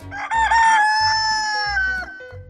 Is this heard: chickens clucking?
yes